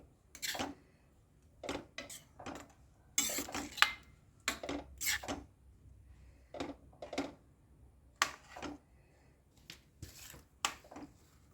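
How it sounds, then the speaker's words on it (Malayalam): A spoon stirs butter chicken gravy in a metal pan after cream goes in, giving scattered scrapes and light clinks against the pan in irregular strokes, close and fairly quiet. "ക്രീം ചേർക്കുന്നത് ബട്ടർ ചിക്കൻ ഒഴിവാക്കാൻ പറ്റാത്ത ഒന്നാണ്. അതുകൊണ്ട് ഇത് ചേർത്തിരിക്കണം. പതുക്കെ ഒന്ന് ഇളക്കി കൊടുക്കാം."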